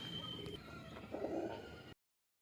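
Soft, low coos from a breeding pair of pigeons close by over a faint background hum, then the clip cuts to silence.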